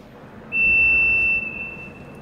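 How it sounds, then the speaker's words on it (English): A single sustained electronic beep from a metal detector alarm sounds for about a second over a low machine hum, then fades into a quieter lingering tone; a stainless steel bowl is in the product. "And still we hear alarms."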